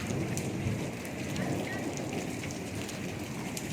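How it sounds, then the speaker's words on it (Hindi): Heavy monsoon-style downpour in Delhi, a dense steady hiss of rain falling on surfaces that continues without break, loud and close, with no clear speech over it. "आपको यहाँ पर दिल्ली और उत्तराखंड में हुई जो झमाझम बारिश है उसका हम दृश्य देख रहे हैं।"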